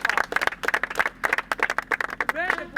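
An audience claps for Jean Asaka at a project inauguration in Kananga, DR Congo, with a loud patter of hands running under a speaking voice throughout.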